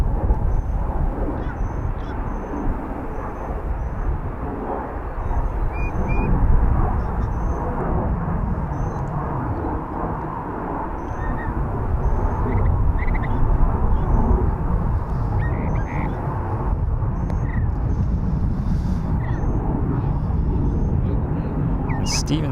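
A huge C-17 military transport takes off at Charlotte Douglas Airport, its sustained deep jet roar rolling on for over twenty seconds with gentle swells, heard from close beside the runway.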